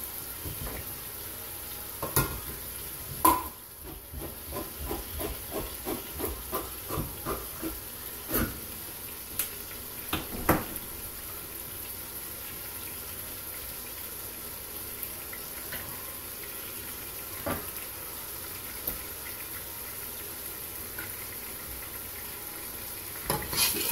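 Chili with beer, beans and diced tomatoes being stirred in a pot, a run of rhythmic scraping strokes against a low simmering sizzle, with scattered sharper knocks of the spoon.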